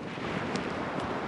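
Steady wind blows at a beach at Sepetiba, a constant broadband rush with no voices.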